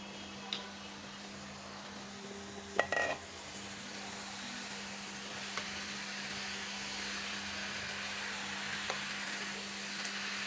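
Mutton pieces fry in a pan for curry with a steady, soft sizzle that runs without a break, broken by a few brief clinks and scrapes, and one louder stirring clatter near the start.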